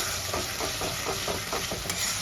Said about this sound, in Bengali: এবার আমি ভালো করে আস্তে আস্তে কষাতে থাকবো।